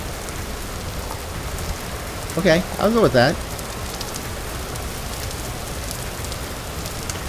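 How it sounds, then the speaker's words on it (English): Steady rain pours in a video game as a constant hiss in the background, while someone speaks briefly near the middle. "As I say while the rain's pouring on me."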